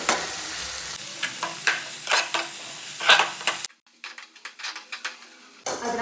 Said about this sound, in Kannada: ಹಿಂಗೆ ಫ್ರೈ ಮಾಡ್ಕೋಬೇಕ್ರಿ ಇವಾಗ